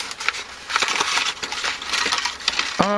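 Paper envelope of small electronic parts such as 5-watt resistors being handled, giving close, continuous crinkling and rustling with several sharp crackles and a brief ringing tap near the end.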